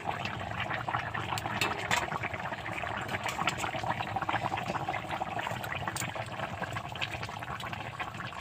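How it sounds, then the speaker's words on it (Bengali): A fish curry with slit green chillies boils steadily in a pan, giving a continuous, even bubbling and sizzling hiss with no talking. "আর একটু ফুটিয়ে নেব।"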